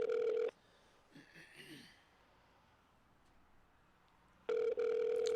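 Telephone ringback tone on an outgoing call, two long buzzing rings with a quiet gap between them where faint breathing and murmurs sit.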